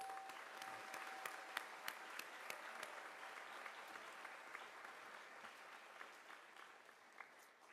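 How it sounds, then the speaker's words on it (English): Steady, distant applause from an audience at a 5th grade celebration, faint and even with scattered sharper claps, no voices over it. "So let's give them a round of applause."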